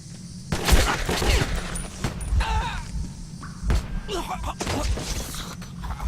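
Gunfire and impacts in the video game Metro 2033, a series of muffled shots and thuds mixed with clattering game effects, with speech heard between the bursts.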